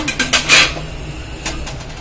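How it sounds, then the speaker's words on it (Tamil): A few metallic clanks and clatters as a metal idli plate is set into a steamer, sharp knocks close by, then fainter rattles. "இட்லி தட்டை உள்ள வச்சுக்கிடுவோம்ப்பா."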